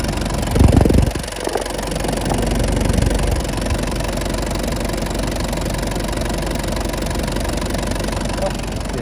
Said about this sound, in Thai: เครื่องนิ่มมาก ไม่มีเฟกไม่มีอะไรนะ